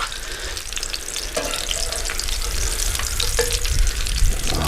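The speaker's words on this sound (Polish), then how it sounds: "mięsko ładnie skwierczy" Bone-in pork chops from Złotnicka pig loin, left in their seasoning, sizzle and crackle steadily as they fry in a pan, a dense close frying hiss with a few louder pops and no voices.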